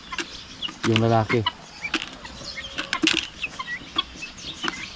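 Chickens and guinea fowl cluck in a flock, with one loud, harmonic call standing out, followed by scattered squawks nearby. Someone speaks briefly among the calls.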